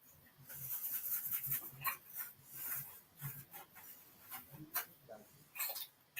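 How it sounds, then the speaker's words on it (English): A puppy makes faint, soft panting and whimpering noises in a quiet room, irregular and close, with light background rustling. "How's puppy dog sound, everybody?"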